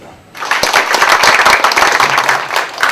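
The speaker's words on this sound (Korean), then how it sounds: "다시 한번 여러분 큰 박수 환답해 주시기 바랍니다" An audience at a CEO coaching forum bursts into loud, close applause after a greeting speech, with dense, sustained clapping for a few seconds.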